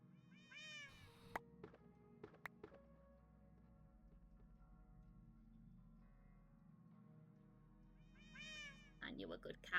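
A cat in the Minecraft ATM9 modpack meows near the start and again near the end, short high cries with clicks and a low steady hum between them, and a person talks briefly.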